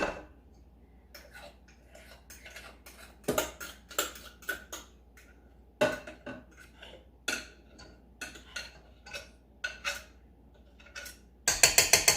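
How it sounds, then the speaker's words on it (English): Fondant goo is scraped from a bowl onto powdered sugar, a series of close irregular scrapes and taps of a utensil against the bowl, with a brief louder mechanical buzz at the very end. "you're gonna scrape all of this goo out on top of that powdered sugar."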